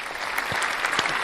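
An audience at an interview event claps briefly, a dense patter of many hands at moderate volume with no voices over it.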